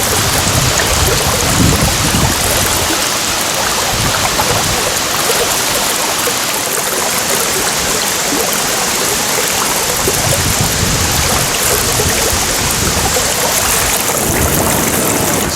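A flooded river rushing past a stilted bird hide, a loud, dense, continuous roar of turbulent water that stays close and steady throughout.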